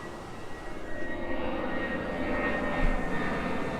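A Spirit Airlines airliner passes over a beach on approach to a nearby airport, its engines a broad, steady roar that swells slightly as it flies overhead, moderately close with no voices.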